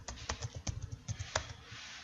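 A password being typed on a computer keyboard: a quick, uneven run of about a dozen crisp key clicks, close up and alone, with no talking.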